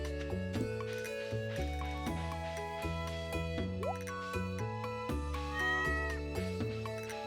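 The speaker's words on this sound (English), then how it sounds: "Pet the kitty." A cat meows in the video game Stardew Valley over steady, bouncy game music, its cry brief and partly buried among the melodic notes.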